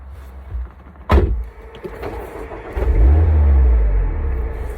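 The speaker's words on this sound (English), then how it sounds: "let's take it for a drive" A Mazda MX5 sets off on a test drive from close inside the car: a sharp knock, then the engine rumble swells as the car pulls away, holding a low steady drone to the end.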